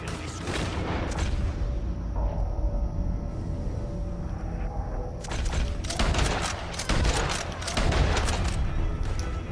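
Gunshots in Red Dead Redemption 2 during a hot-air balloon scene: repeated sharp loud shots in clusters, with booming impacts and rumble between bursts.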